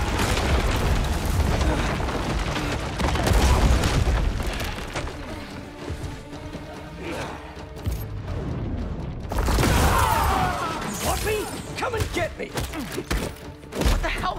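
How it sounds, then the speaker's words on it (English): A symbiote blast in Marvel's Spider-Man 2 on PS5: heavy booming bursts and thuds layered over game music and effects, with a second loud surge of impacts later on. "Symbiote blast!"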